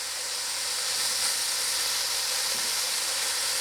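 A chuck roast sears in a pot, giving off a steady, loud broadband sizzle and hiss that runs unbroken throughout, with no voices.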